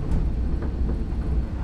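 Argo Muria passenger train pulling into Semarang Tawang station, a steady low rumble and rolling rail noise throughout, with no voices over it.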